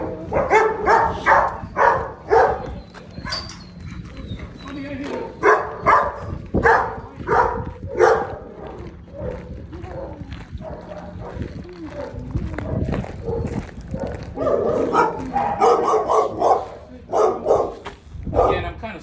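Several dogs bark loudly and repeatedly in overlapping bursts in shelter kennels, echoing as if in an enclosed space, with footsteps and movement underneath.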